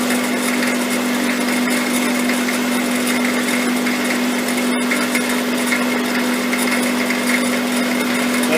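A metal shaft takes a finishing cut in a workshop, giving a steady, even broadband machining hiss over a constant motor hum, with no voices.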